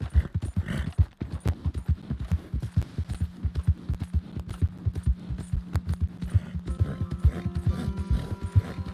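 Horse hooves clip-clopping in a video game: a steady, fast rhythm of close, distinct hoofbeats running throughout, with a low mechanical hum and faint tones joining near the end.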